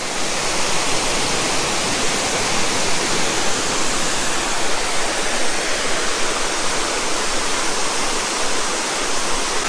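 Salto El Limón waterfall in the Dominican Republic roars as a loud, dense and unbroken rush of falling water, heard close and alone.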